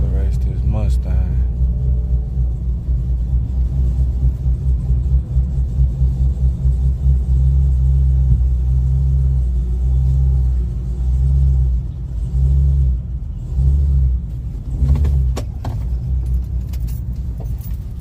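A Ford Mustang 5.0 at the Yellow Belly drag strip rumbles in a deep, steady, loud idle that swells briefly now and then, with people talking nearby.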